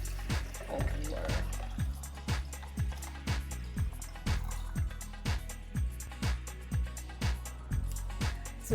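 Water glugs and splashes into a container of cucumber pieces in a rhythmic series of pulses, close by and moderately loud, with no talking.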